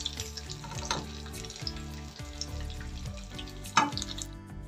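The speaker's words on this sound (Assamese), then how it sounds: "এয়া মাছ ফ্ৰাই কৰা তেলতে মই অকণমান পাঁচফোৰণ দিছোঁ আৰু এটা শুকান জলকীয়া দিছোঁ" Panch phoron and a dried chili crackling in oil left over from frying fish for an Assamese fish curry, a steady soft sizzle with brief spits and a sharper pop near the end.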